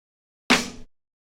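A single clap layered with a punchy snare sample hits once, sharp and close, a bright crack with a short decaying tail, alone in silence.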